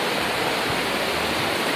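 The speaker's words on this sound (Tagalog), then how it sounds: "Tubig sa sapa." A stream of water flows close by, a loud, steady hiss-like rush filling the whole brief moment without any break or voices.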